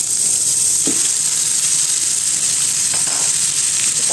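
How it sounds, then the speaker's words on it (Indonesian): Chicken pieces stir-fry in a hot pan with a constant, loud sizzle and hiss, broken by a few faint scrapes of stirring. "Ini ayamnya kita tumis terus sampai matang"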